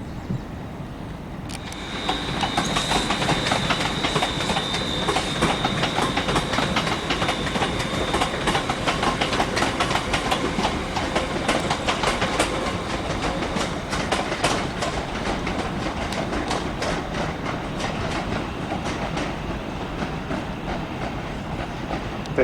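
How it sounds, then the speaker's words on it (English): A two-coach passenger train runs along the rails with a steady, continuous rumble and rhythmic clickety-clack from the wheels, plus a thin whine early on. It holds at an even, fairly loud level with no talking. "This train is formed of 2 coaches"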